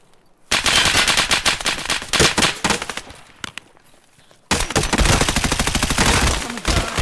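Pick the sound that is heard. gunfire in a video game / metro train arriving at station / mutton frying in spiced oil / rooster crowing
gunfire in a video game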